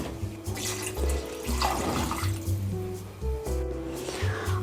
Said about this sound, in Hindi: अब इसमें मैं पानी डाल दूंगी, 2 गिलास इसमें मैं पानी डालूंगी